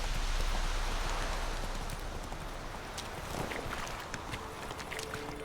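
Geralt's horse Roach trots in The Witcher 3 on Nintendo Switch, a faint, rhythmic clip-clop of hooves under a rustling ambient bed that fades slightly over a few seconds.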